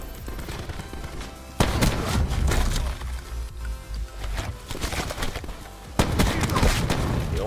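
SG12 shotgun fire in Black Ops 4 Search and Destroy, sharp loud blasts at intervals amid busy match noise, with heavy booming reports standing out near the start and end.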